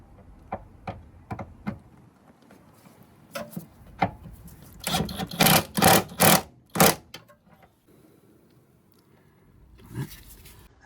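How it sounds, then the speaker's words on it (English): A wrench tightens the bolts on the rear shock of a 2007 Ford Focus, starting with a few sharp clicks and building to a cluster of louder ratcheting strokes before a quiet pause. "I'm just going to nip those up with a wrench just to make sure they are tight."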